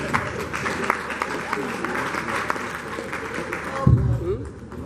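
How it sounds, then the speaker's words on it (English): An audience at a board of fellows meeting claps after a motion is seconded, a steady spread of many hands under a low hum, with a speaker's voice cutting in near the end. "Can you clap for her?"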